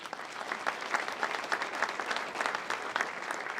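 Steady audience applause at a county State of the County address, a dense wash of many hands clapping at even loudness throughout, with no voices over it.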